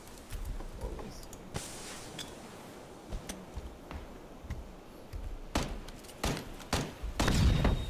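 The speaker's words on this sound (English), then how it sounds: "Who threw a stun grenade?" A stun grenade goes off in PlayerUnknown's Battlegrounds with a sudden bang followed by a thin, lingering high ringing tone, then scattered nearby gunshots and clatter, the last shots louder and closer.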